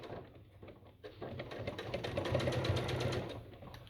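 A sewing machine slowly stitches through the bulky seam of a fabric basket in a rapid, even run that swells a little toward the middle.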